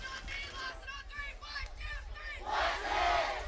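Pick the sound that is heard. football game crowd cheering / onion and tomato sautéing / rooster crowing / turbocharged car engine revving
football game crowd cheering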